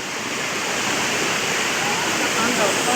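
A river near Ditumabo Mother Falls rushes in a dense, steady roar of flowing water, loud and close and growing slightly, with a voice talking over it.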